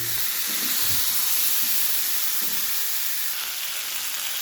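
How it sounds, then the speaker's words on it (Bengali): Potatoes fry with spices in a pan for alu dom, giving a loud, steady, hissing sizzle up close, with a few low knocks of stirring early on. "আলুটা হচ্ছে ভাজা হয়ে ওপরটা একটা ক্রিস্পি ভাব আসে"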